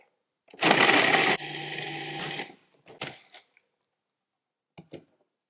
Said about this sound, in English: Just go ahead and crush the cookies until fine crumbs